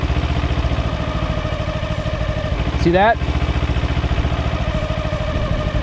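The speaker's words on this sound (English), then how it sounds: "the sound of the engine actually went down, and you'll see the RPMs drop a little bit" A motorcycle engine idles with a steady, close putter while a voice speaks briefly; the engine note dips slightly as the revs drop when the clutch reaches the friction zone.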